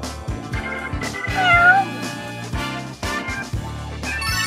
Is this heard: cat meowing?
yes